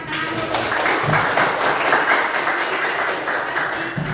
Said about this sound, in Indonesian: Itu Tepuk tangan.